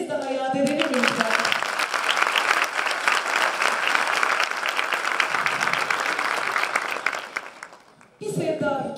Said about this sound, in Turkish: Güzel alkışlarınızla onları bir kez daha yad edelim lütfen.